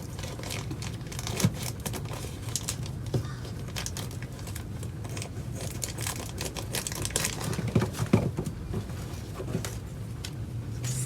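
Dull scissors chew through stiff shade cloth in rapid, crunchy snips and rustles, irregular bursts close by with no talking.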